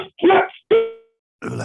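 A dog barks twice in short, loud, close bursts, followed after a brief pause by a rougher noisy sound.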